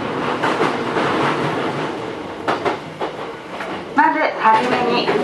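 A Hankyu 9000 series electric train rumbles steadily along the rails with rhythmic clatter, a brief squeal of wheels toward the end, and voices murmuring in the background inside the carriage.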